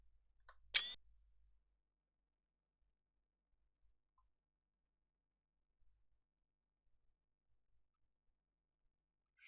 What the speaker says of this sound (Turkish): Hemen hızlıca fotoğraf alayım.